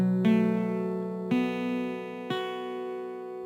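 Acoustic guitar picking a chord from a song, with three plucked attacks, each a bright ringing open second string and fretted first string left to sustain and decay, close and clear with no talking.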